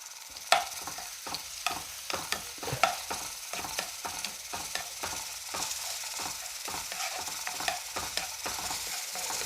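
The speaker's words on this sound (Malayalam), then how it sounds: "ഒരു സ്പൂൺ ഇഞ്ചി വെളുത്തുള്ളി ചതച്ചതാണ് അതൊന്നിട്ട് ഇട്ട് കൊടുക്കുക" Crushed ginger and garlic frying in oil in a pan for a Kuttanad toddy-shop style liver fry, a constant sizzle broken by quick, rhythmic scraping and clicking strokes of a stirring spoon, no speech.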